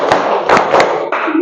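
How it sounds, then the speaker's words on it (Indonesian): A classroom of students claps together in a few quick bursts of hand claps, sharp, close and loud, roughly four claps in a row. "Tepuk tangan semuanya."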